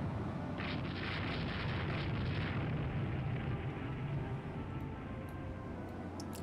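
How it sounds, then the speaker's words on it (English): A torpedo strike on a warship in the naval strategy game Rule The Waves 2 gives a steady, low, rumbling roar that holds throughout, loud and unbroken with no distinct separate blasts. "It's another hit by a torpedo."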